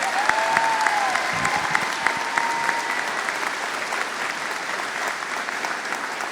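An audience at a college commencement applauds graduating veterans who stand to be recognized, a steady, dense wash of many hands clapping that holds at an even level throughout, with a faint voice briefly audible beneath it.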